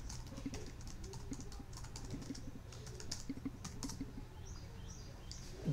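Quiet, rapid keystrokes on a computer keyboard as a password is entered, irregular clicks with brief pauses, close and alone in a calm room.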